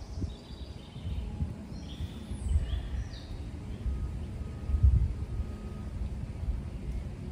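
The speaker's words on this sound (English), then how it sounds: "Enjoy the sounds of the Wisconsin birds." Wisconsin birds sing outdoors with faint, scattered chirps and short whistled notes over a low rumble of wind and background noise.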